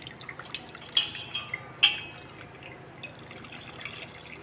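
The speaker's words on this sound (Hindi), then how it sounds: "अब हम जो इसका जो पानी है वो निचोड़ के जो है इस तरह से निकाल लेंगे।" Water squeezed out of chhena in a cloth for rasgulla, a handful of light drips and splashes with two sharper taps, faint and close, over quiet kitchen background.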